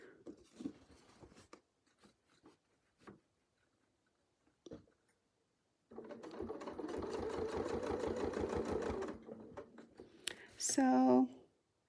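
Sewing machine stitching a quilt along a Westalee ruler, a close, fast rhythmic whirring run of several seconds after scattered handling taps, followed by a short higher whine.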